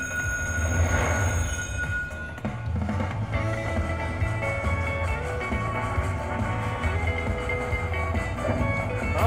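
A train runs in the Railroad Riches slot video game, with loud rolling wheels, squealing rails and mechanical clatter continuing steadily for several seconds.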